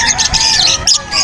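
A pet bird at an outdoor pet market squawks in short harsh bursts, close and loud, with a brief gap before another squawk.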